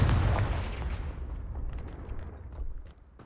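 A Confringo fire spell bursts with a loud, deep explosive boom in Hogwarts Legacy, its rumble rolling out and decaying over a few seconds with faint crackles in the tail.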